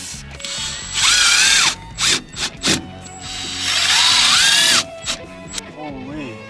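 A power drill drives wood screws into a campervan cabinet in two long whirring bursts with short stuttering pulses between them, close and loud, and a person speaks briefly near the end.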